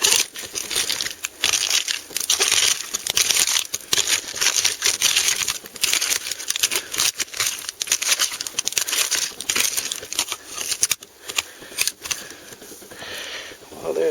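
Continuous crunching and clinking of small broken glass bottle shards being dug through at an old Coke bottle dump, close and steady with scraping crackles throughout.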